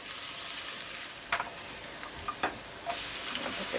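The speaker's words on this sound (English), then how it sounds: "Alright, so I have the pan heating. Put some LEEKS in here." Leeks frying in a heated pan, a low steady sizzle with a few brief clicks and scrapes as they are stirred, fairly quiet and without talk.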